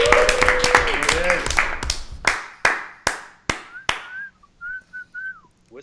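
At a kickboxing podcast, a sharp whistle opens over clapping, then single claps fade out one by one, followed by several short rising whistles alone near the end.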